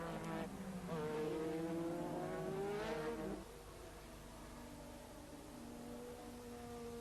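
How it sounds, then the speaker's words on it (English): Formula One turbo race cars at Zandvoort in 1984, a loud high engine roar with rising revs that fades into a steadier distant drone as the cars pass, with no talking. "Then Lauda went past Tambay into fourth place behind Rosberg"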